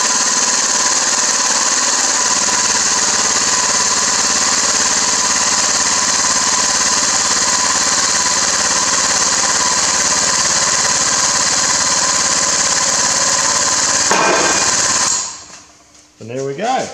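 A loud, steady whining power tool or machine runs continuously at close range while the rear axle is removed from a Massey Ferguson MF135 tractor in a workshop, then winds down and stops near the end.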